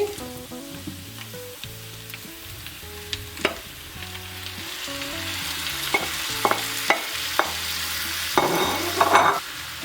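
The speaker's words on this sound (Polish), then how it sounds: "I smażymy pieczarki" Sliced mushrooms added to onions already browning in a pan sizzle steadily while a utensil scrapes and stirs, with scattered clicks and knocks growing busier toward the end; close and moderately loud, no talking.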